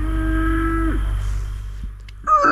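Cows low close by near a river, a long drawn-out moo with rich harmonics fading after about a second, followed by a second louder call near the end over a steady low rumble.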